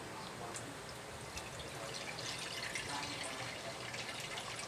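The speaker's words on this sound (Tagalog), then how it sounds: "Ang gagamitin po nating lutuan ay palayok para sa ating gulay na bulanglang. Una, ilalagay natin ang tubig." Water pours steadily into a clay palayok cooking pot as the start of a vegetable bulanglang, a soft continuous splashing hiss heard close up without voices.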